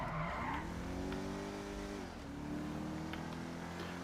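Car in GTA 5 driving with a tire squeal and engine note shifting in pitch, faint and steady throughout.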